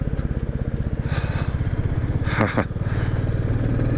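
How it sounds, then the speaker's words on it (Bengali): A motorcycle ridden on a mountain road near Jaswantgarh in Arunachal Pradesh, its engine throbbing in a fast, steady pulse close to the listener, with a short rushing swell midway. "জোরে বাইকটা চালাই"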